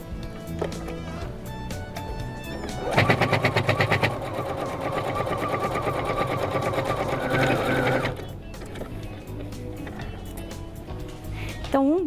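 A sewing machine stitches the bottom of a fabric bag, a fast, even run of mechanical clatter for about five seconds, framed by quieter handling and someone talking before and after.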